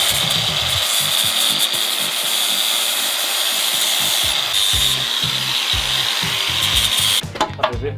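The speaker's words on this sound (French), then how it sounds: "on a mis un disque en fait qui permet de meuler pour enlever la peinture" An angle grinder disc grinding paint off a kart frame before welding, a loud, steady abrasive whine that continues almost unbroken, then a few clanks and rattles near the end.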